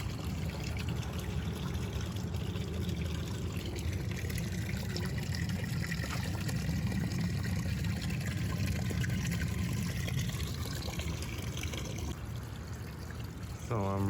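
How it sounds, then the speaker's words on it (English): Stagnant pond water drained out during a cleanup, a steady continuous trickling and flowing rush of water held close and fairly loud throughout, with a few faint sounds near the end. "So I'm running out the water."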